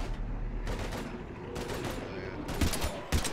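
Rapid bursts of gunfire in the Mass Effect 3 video game, several sharp volleys in quick succession with short gaps between them, loud and close, set over a busy game soundscape with combat noise.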